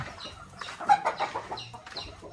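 Chickens cluck softly in a flying pen, a few close, uneven calls with light rustling among them, heard on their own with no one talking.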